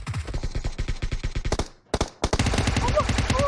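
Gunfire in a video game: rapid automatic bursts of loud, sharp shots, a short pause, then another dense burst, with a voice mixed in.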